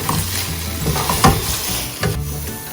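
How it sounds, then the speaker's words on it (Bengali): Loitta fish jhuri sizzles steadily in a pan, loud and close, while a utensil stirs and scrapes through it with a few sharper clatters; no one speaks. "ভাজা হচ্ছে, জল অনেকটা শুকিয়ে গেছে দেখতে পাচ্ছ।"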